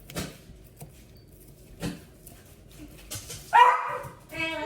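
Dogs in a home kitchen yip and bark excitedly for food, a few short barks and whimpers near the microphone, with a person talking between them.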